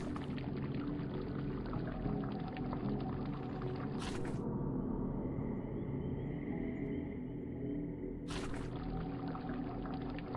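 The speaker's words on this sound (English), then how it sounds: "I hear gurgling to the west." Swamp water in a game gurgles and pours with a continuous bubbling wash, steady and fairly close, with a stretch in the middle where the sound narrows and softens before returning full.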